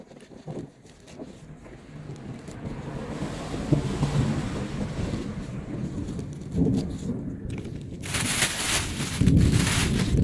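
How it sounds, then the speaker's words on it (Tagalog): Low thunder rolling during a rain shower at a jarjir plantation, a rumbling swell building over several seconds with wind buffeting the microphone and a louder gust near the end. "Naririnig niyo yung kulog."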